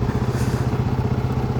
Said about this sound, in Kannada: ಸೂಪರ್ ಅದ್ಭುತವಾಗಿ ರನ್ ಆಗ್ತಾ ಇದ್ದಾನೆ ನಮ್ಮ ಬುಲೆಟ್.